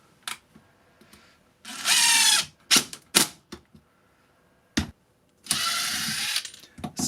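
Makita 40v impact driver on its lowest speed setting, close and loud, with two sustained rattling bursts broken up by sharp clicks and short trigger taps.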